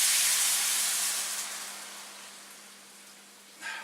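Wine, lemon juice and olive oil hit a warm pan, making a loud bright sizzle and hiss that slowly fades, then a brief fresh burst of sizzle near the end.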